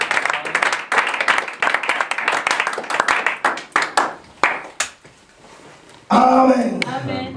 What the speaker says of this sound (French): Est-ce qu'on peut acclamer pour le Seigneur? Acclamons pour le Seigneur.